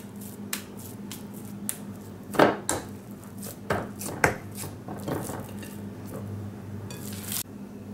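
Ground hamburger meat is pressed and slapped into patties with one hand. It gives wet squishy pats and a few sharp smacks at irregular intervals over a low steady hum, with no talk.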